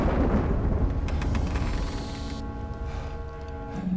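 Thunder rumbles in the video game Indiana Jones and the Emperor's Tomb, a loud, continuous low roar that swells at the start and slowly fades to a lower rumble with no voices.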